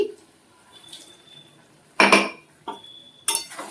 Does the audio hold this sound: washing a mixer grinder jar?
yes